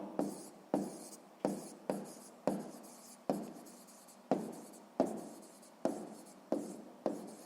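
Pen writing on paper close up, a series of about a dozen short, sharp scratching strokes in an uneven rhythm, quiet and alone.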